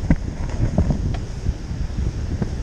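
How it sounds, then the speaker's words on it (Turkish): Low rumbling wind buffets the microphone steadily on a seaside bike path at İnkumu, with faint gusty rustling and a few soft knocks, no voices. "Rüzgar var."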